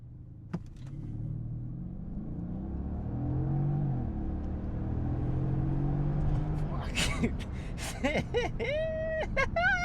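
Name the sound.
Mercedes E550 W212 V8 biturbo accelerating hard from a stop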